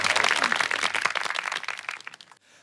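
Applause from a student orientation audience before a song performance, a dense patter of clapping that thins and fades out near the end, with no talk over it.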